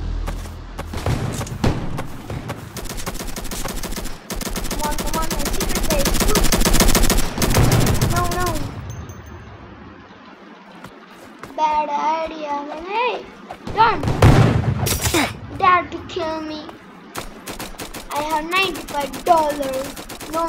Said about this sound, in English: I need to shoot that guy.